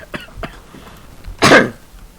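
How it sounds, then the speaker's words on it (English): A single sharp cough bursts out midway, loud and close, preceded by a few faint clicks and breaths in a quiet room during a tabletop game session. "Oh no, that was a cough."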